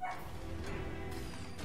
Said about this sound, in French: excusez-moi si vous entendez un chien